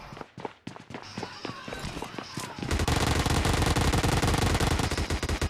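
Gunfire in PUBG Mobile Lite gameplay, scattered sharp shots and footsteps building into dense, loud automatic fire that continues without a break.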